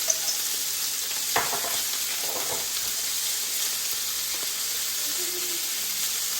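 Sliced courgette and garlic frying in butter in a pan, a steady close sizzle and hiss with a few soft clinks and scrapes of stirring, continuous and moderately quiet with no talk.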